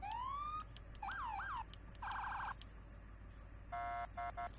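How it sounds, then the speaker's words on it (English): Emergency vehicle sirens on a fire truck or ambulance in Farming Simulator 17 cycle through several patterns, including a rising wail, rapid yelps and a fast warble, with short gaps between them and no talking. "It does have some very nice sirens."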